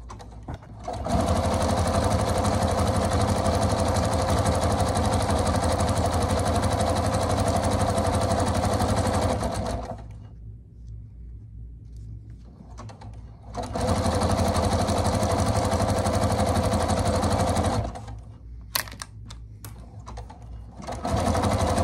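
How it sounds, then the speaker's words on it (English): Sewing machine zigzag stitching a feedbag tote, a steady loud mechanical whir in two long bursts separated by a quiet pause, with faint handling noises between runs. "I'm going to zigzag stitch."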